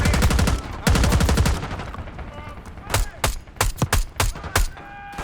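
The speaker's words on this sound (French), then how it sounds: "Des coups de feu, à droite." Gunfire in the Call of Duty Black Ops 6 campaign: loud bursts of rapid automatic fire in the opening seconds, then a string of sharp, separate shots spaced irregularly, with faint speech underneath.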